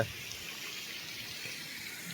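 A small local waterfall in Koraput, where marble stone is cut, gives a faint, steady splashing rush of falling water from a moderate distance, continuous and unbroken, with no one speaking.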